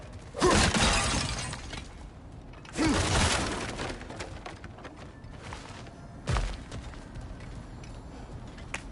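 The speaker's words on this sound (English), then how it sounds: "back to smashing through things for fun and profit" Breakable objects are smashed in the video game God of War Ragnarök: three loud, crunching shatter bursts, each fading quickly, separated by pauses of a few seconds over a quiet background.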